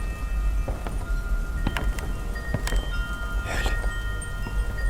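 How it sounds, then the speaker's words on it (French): Rain sound effect in a French audio drama, a castle interior with water dripping from the ceiling: steady rainfall hiss with scattered drips and a few sharper drop impacts, continuous and moderately close, with no talk. "Il a commencé à pleuvoir dans le château."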